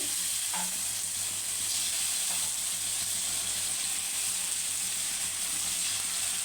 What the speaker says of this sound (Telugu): ఆయిల్ అయితే హీట్ అయిందండి ఇగోని ఫిషెస్ ముక్కలను అయితే వేసేస్తున్నాం